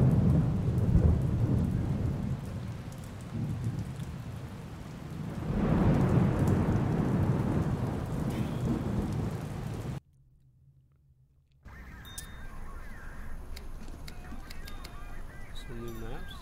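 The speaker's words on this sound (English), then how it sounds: "I hear the rains." Steady rain and rolling thunder in the Pavlov video game, a dense roaring wash that swells, cuts out briefly and then returns more softly.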